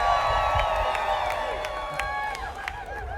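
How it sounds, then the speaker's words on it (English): A large crowd cheers, whoops and claps at an outdoor rally at the Texas Capitol, a dense, sustained roar of voices and applause at close range with sharp individual shouts rising above it. "Can I get a big old cheer for that?"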